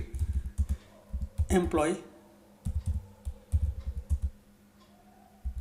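Keys clatter on a computer keyboard as an SQL update command is typed, in short rapid bursts mixed with someone talking in Hindi.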